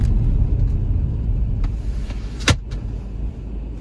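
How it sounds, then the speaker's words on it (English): A 2008 BMW 520d M Sport Touring with a 2-litre automatic brakes from 50 mph, giving a steady low road and cabin rumble that gradually eases, with a brief sharp knock partway through. "we can test out the brakes."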